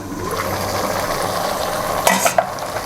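Potato and carrot curry with spices being stirred in a pan, a steady soft sizzle of steaming vegetables with a few louder scrapes of the spoon near the end.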